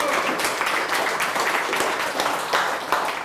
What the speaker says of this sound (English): Hand of applause for Victor.